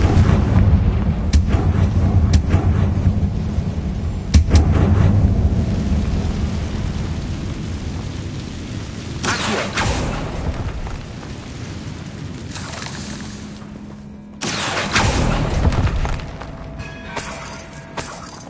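An explosive fire spell cast in Hogwarts Legacy on PS5, heard in a stormy setting. Rolling, thunder-like booms swell and fade over steady rain, with two heavy bursts late on and no talking.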